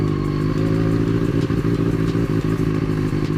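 A motorcycle engine runs rich, giving a loud, steady, throbbing drone close by for the whole stretch, with a faint rattly pulsing over it and no voices.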